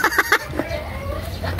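A hen clucks a few quick times up close, short bursty calls followed by a quieter stretch and another cluck at the end.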